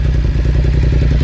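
A BMW F900R motorcycle engine idles steadily nearby, a low, even rumble with a faint rhythmic pulse and no voices.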